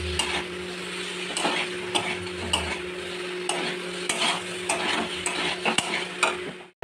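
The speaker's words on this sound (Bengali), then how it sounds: "আলুর দম কষা চলছে" Potatoes for aloo dum sautéing in milk in a pan, with a continuous sizzle and repeated spoon stirring taps and scrapes at a fairly regular rhythm, near and alone without speech.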